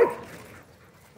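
Corgis barking outdoors at a dog park at dusk: one sharp bark right at the start, a quiet stretch, then another bark at the end.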